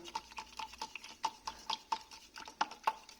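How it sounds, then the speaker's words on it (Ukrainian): Body filler for car body repair being stirred in a container, a run of quiet, irregular scraping taps with no talk. "Потім ми це все діло гарненько розмішуємо."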